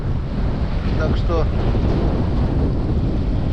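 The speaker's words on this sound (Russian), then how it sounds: "просто очень сильный ветер" Strong wind roars continuously across the microphone during an autumn fishing trip, with a short burst of Russian speech near the start.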